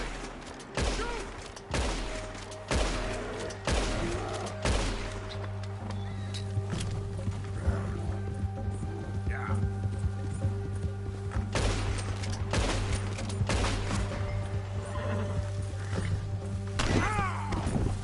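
Rapid gunfire in Red Dead Redemption 2 during a bear encounter: repeated sharp bangs and thuds over a steady low hum, with a few scattered shots followed by denser bursts throughout.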